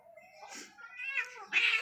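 A house cat gives three drawn-out meows in a row, each rising and growing louder, with the last one the strongest and closest.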